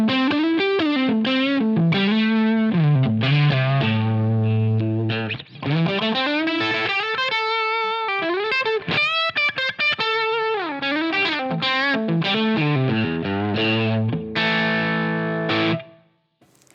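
Electric guitar through a Line 6 Helix Brit Trim Norm amp model and 4x12 Greenback 25 cabinet miked with a 121 ribbon mic, vibe effect off, playing sustained chords and melodic bends with mild drive, close and alone.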